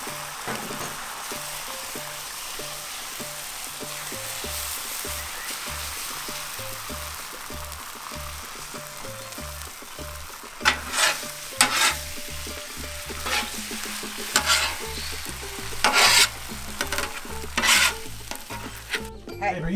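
Five eggs frying on a Pit Boss five-burner flat top griddle, a long steady crackling sizzle, busier in the second half with spatula scrapes and taps.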